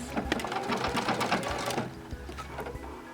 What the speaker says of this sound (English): I'm just going to sew until the machine stops